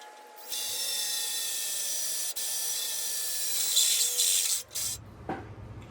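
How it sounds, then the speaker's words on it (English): A power drill drilling holes in a motorcycle frame tube whines steadily at high pitch for several seconds, briefly pausing, then stops with a clunk. "So I'm gonna go ahead and drill those out."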